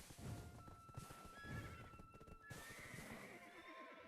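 Horse in the online game Black Desert Online letting out repeated whinnies and snorts alongside clip-clopping hooves, fairly faint overall with no talk.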